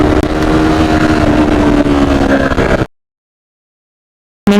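A KTM RC 390 motorcycle engine runs steadily and loudly during a mileage test for about three seconds, then cuts to silence before a brief return at the end.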